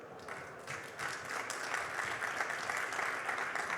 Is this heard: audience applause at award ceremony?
yes